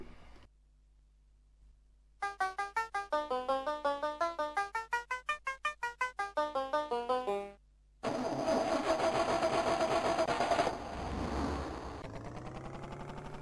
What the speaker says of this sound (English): Our engine's sounding very funny.